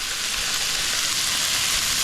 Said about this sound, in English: Sweat the onions down for a little bit.